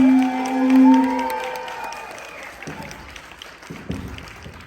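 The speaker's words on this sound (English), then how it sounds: "please clap it up, show your love and appreciation" An interview audience applauds a guest with clapping and cheering that swells loudly, then thins into scattered claps over a lingering tone.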